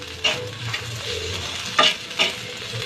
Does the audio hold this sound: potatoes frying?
yes